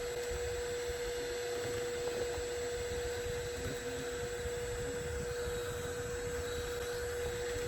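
A vacuum draws steadily while hornets are removed from a nest, its constant motor whine and airflow hum running without pause at a moderate level the whole time.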